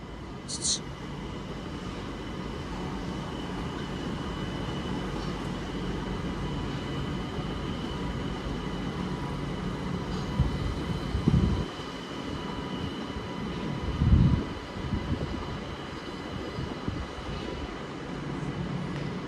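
A Class 378 electric train, unit 378-202 in from Watford Junction, rolls into London Euston with a steady low rumble and rail noise under the station hum, with a couple of brief clunks and a short high squeal near the start.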